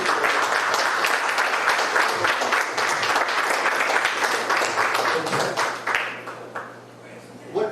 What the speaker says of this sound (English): let's give Brother Brown a applause